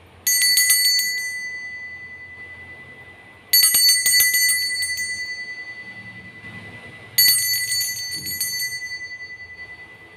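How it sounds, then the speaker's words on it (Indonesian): Three bright metallic bell rings spaced a few seconds apart, each ringing out clearly and fading slowly before the next, opening a tarot reading. "Saya akan memulai dengan ditandai lonceng berbunyi."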